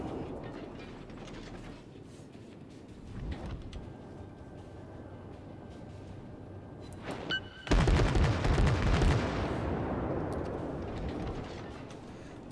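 Naval guns fire in the World of Warships video game, a loud booming salvo after a steady ambient rumble, with sharp mechanical clanks before the blast and a long rolling decay, no talk.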